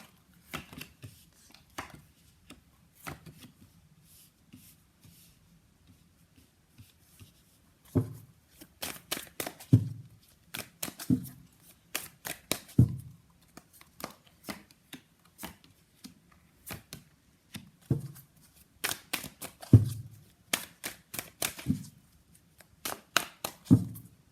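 Tarot cards being shuffled and tapped in repeated bursts, each a quick run of crisp slaps and riffles separated by short pauses, close up with no voices.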